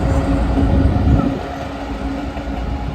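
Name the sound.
two Class 66 diesel locomotives passing at York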